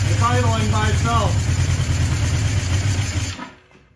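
A 1979 Suzuki GS850 motorcycle idles on its own in a garage, giving a loud, steady, low rumble that fades at the end, while a voice talks over the start.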